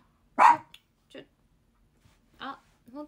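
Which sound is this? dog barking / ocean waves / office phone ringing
dog barking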